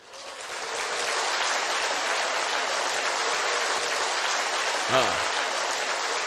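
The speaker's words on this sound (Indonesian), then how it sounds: "Anda betul-betul harus memberi tepuk tangan." An audience in a lecture hall applauds President Park, a broad, steady wash of clapping that fills the clip at an even level, with a brief voice rising out of it near the end.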